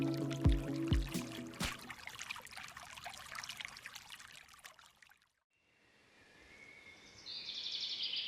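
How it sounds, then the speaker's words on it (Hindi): A waterfall pours steadily in a coffee plantation, a soft continuous rush with a brief near-silent gap midway, joined by faint bird calls and some closer knocks early on. "कितना प्यारा झरना है।"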